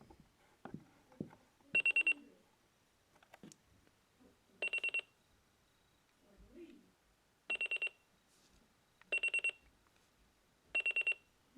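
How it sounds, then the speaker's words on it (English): Sony Dream Machine ICF-C414 clock radio alarm buzzer sounding in five loud, close bursts of rapid electronic beeping, each about half a second long, separated by pauses of a couple of seconds. "So there's your buzzer. That's all the buzzer is."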